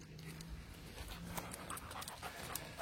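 Dog panting outdoors in a vegetable garden among tomato plants, rapid rhythmic breaths heard close and soft, with no talking.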